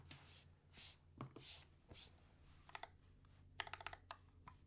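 Keys clatter on a mechanical keyboard during a typing test, in quiet irregular bursts of close clicks with brief pauses between runs.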